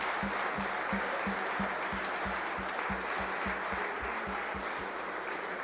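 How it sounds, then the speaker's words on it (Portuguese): A church congregation applauds during a worship service, a dense steady wash of clapping with a regular low thumping pulse running beneath it throughout. "Dê um aplauso ao Senhor"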